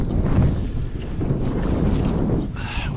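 Gusty wind buffets the microphone outdoors on a river, a low rumbling roar that swells and eases over a few seconds.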